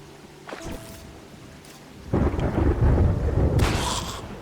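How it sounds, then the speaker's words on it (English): Thunder from lightning in the video game Terraria: a soft crack early on, then a loud rolling rumble that swells and booms again before fading, heard alone. "I just have to not be in the water when the lightning goes off."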